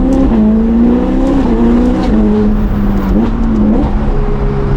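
A Novitec-tuned Ferrari 488 Pista is being driven hard, with its engine note loud and close throughout, rising and dropping as it shifts through the gears, with short revving climbs.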